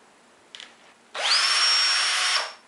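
Cordless drill converted to run from an AC switching power supply gives a brief click, then spins up with a sharp rising whine, holds a steady high motor hum for over a second, and stops abruptly.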